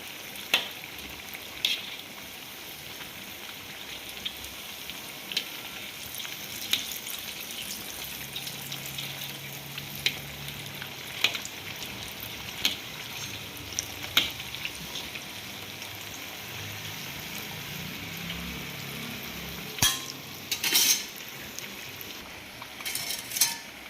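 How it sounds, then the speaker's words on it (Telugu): Purnalu fry in oil over a low flame with a soft, continuous sizzle, punctuated now and then by light clinks of a utensil against the pan. "ఇలా ఒకసారి టర్న్ చేసుకొని స్లో ఫ్లేమ్లో ఫ్రై చేసుకోవాలి"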